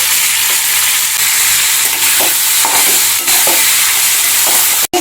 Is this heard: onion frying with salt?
yes